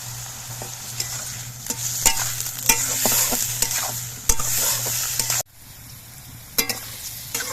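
Brinjal frying in mustard oil with a little salt added, a loud continuous sizzle broken by repeated stirring clatters and spatula scrapes, dropping quieter for the last couple of seconds.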